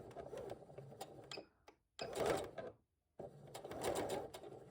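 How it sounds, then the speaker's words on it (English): A sewing machine stitches the side seams of a robe in quick rapid bursts, pausing twice in near silence between runs, close and fairly loud with no talk. "I've just finished sewing my side seams, and the shoulders and the center back."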